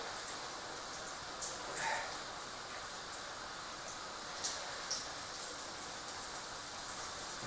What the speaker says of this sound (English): One's in there now, frying away.